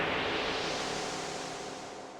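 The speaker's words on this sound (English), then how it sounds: "This is a white noise, a riser," A white noise riser sample used as a music production transition, a dense loud hiss that fills the clip and slowly fades, with no voices.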